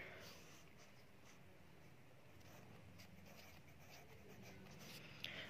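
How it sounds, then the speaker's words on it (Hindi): A pen or pencil writes the number four by hand, a faint steady scratching and rubbing on paper that lasts throughout at low level. "अब हम यहाँ पे लिखेंगे फोर"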